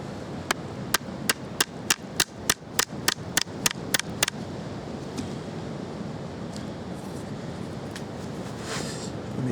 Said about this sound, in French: On va faire une petite encoche.